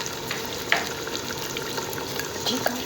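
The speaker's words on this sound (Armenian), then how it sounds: "Եվ թողնում եմ մի քիչ այսպես տոմատի մեջ տապակվի։" Offal, including liver and heart, fries in tomato in a pan, giving a steady soft sizzle with occasional crackles and stirring scrapes, close and moderately quiet.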